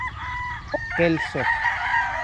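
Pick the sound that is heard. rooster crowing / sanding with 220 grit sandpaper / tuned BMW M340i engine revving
rooster crowing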